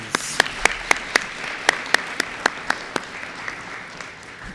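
Scattered clapping from the audience at an eighth grade promotion ceremony at Sunnyslope School: a dozen sharp, evenly spaced claps over a soft wash that gradually fades.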